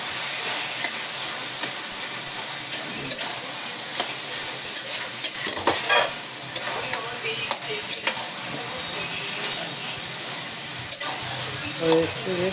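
Cabbage stir-fried in a pan gives a constant sizzle under a voice, with intermittent scraping and tossing strokes as it is stirred around.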